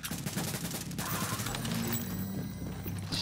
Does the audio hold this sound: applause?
no